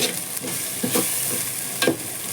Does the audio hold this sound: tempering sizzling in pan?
yes